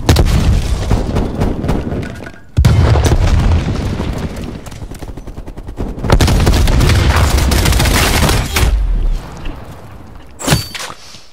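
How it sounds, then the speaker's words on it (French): Frag grenade explosion in the Call of Duty Cold War beta: a loud, booming blast at 2.6 s followed by sustained in-game gunfire and rumble, another heavy burst near 6 s, and a sharp crack around 10.5 s. "Grenade à fragmentation envoyée."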